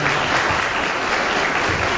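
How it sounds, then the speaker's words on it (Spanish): An audience at an academic conference panel session breaks into sustained applause for two organisers and the panel, a dense, even wash of clapping that fills the whole stretch. "un aplauso a ellas y al panel"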